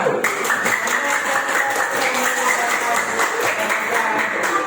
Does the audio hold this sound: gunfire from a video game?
no